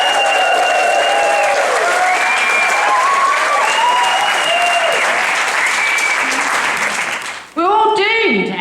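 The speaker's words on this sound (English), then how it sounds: "Can we please give a huge Baba cheer," A comedy-show audience at a cinema theatre in St Leonards cheers, whoops and applauds loudly in a sustained roar with shouted voices, which cuts off briefly before a fresh burst of cheering rises near the end.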